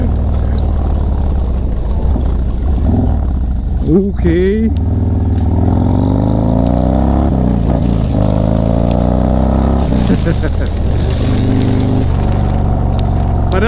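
A group of Harley-Davidson motorcycles rumbles loudly and continuously nearby, with engine revs rising and falling throughout, while someone talks over the noise.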